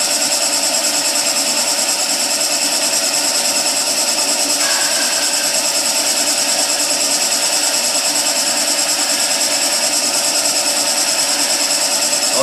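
Wood lathe spinning during spindle work as a turning tool cuts, a loud steady whine with a continuous tonal hum and brief scraping near the middle, no voices.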